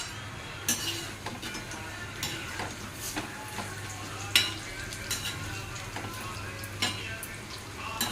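Potato and pea fritters fry in a pan, bhajiya style, with a quiet continuous sizzle. A utensil stirs and taps at intervals with sharp clicks and scrapes.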